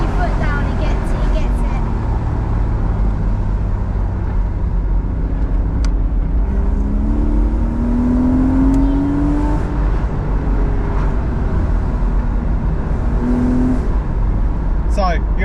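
A Porsche Boxster revs and accelerates from inside the cabin, its engine note climbing in pitch mid-clip and again near the end over a steady road drone, with faint voices in the car.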